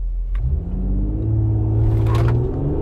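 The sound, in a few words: Mercedes-AMG GLE 43 Coupe accelerating 0-100 km/h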